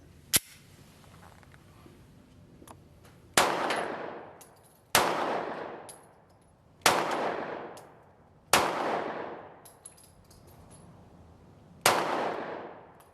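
A Smith & Wesson CSX 9mm pistol fires six separate shots at an outdoor range, each a sharp, loud crack followed by a decaying echo, spaced a couple of seconds apart.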